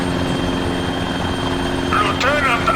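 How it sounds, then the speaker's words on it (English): In Arma 3, a helicopter engine runs as a steady, droning hum with a layered rotor whine, close and fairly loud, and a brief voice-like sound rises near the end. "Oh, helicopter is starting."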